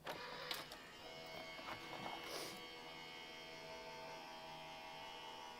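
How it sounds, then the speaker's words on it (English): A die cutting machine hums and whirs quietly as card is fed through it, with a few faint clicks at the start before a steady low mechanical drone carries on alone. "I'm just going to just pop those through the die cutting machine"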